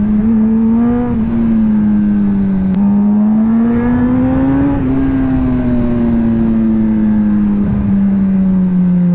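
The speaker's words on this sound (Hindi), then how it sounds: "पता नहीं टेलर्ड फिट एग्जॉस्ट का साउंड आपको कैसा आ रहा है" A Kawasaki ZX10RR superbike with a tailored fit exhaust revs loudly and close, its engine note climbing and falling in smooth sweeps over several seconds with no one talking.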